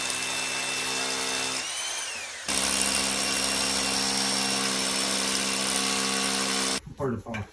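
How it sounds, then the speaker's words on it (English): A power drill bores into concrete to make holes for an epoxy anchoring system at a cabin build in the woods. Its loud, steady whine drops briefly, then runs continuously before stopping, followed by short bursts of voices. "So he drilled into the concrete"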